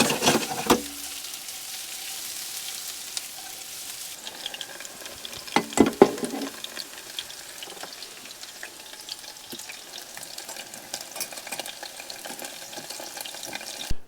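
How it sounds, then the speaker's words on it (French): Onion added to a hot pan, with a brief loud burst of sizzle and clatter at the start, then a faint steady frying hiss with a few stirring knocks midway. "maintenant tu rajoutes l'oignon"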